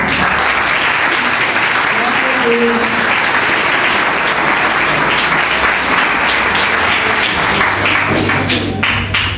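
A church congregation applauds during a Brazilian evangelical service, a loud, sustained wash of many hands clapping that holds steady from start to finish with a low hum beneath.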